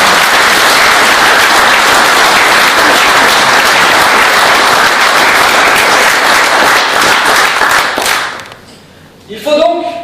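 Loud, sustained applause from an audience at a political speech keeps up dense and even for about eight seconds, then cuts off abruptly, leaving a brief hush before a voice starts speaking.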